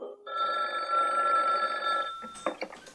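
A telephone rings in a continuous electronic tone for about two seconds before cutting off, followed by a few brief clattering sounds, fairly close and clear with no speech.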